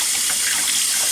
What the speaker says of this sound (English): Make it fill with water.